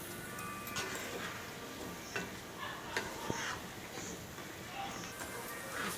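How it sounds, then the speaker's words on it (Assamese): A coconut pancake (narikal pitha) mixture fries in a pan while being stirred, a soft continuous sizzle with scattered scraping clicks, close but fairly quiet. "এনেদৰে ভাজি থাকিব"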